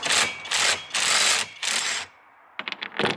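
A ratchet wrench clicks in several quick bursts while loosening a bolt on a trailer sailer's mast raising system, close and crisp with short pauses between strokes.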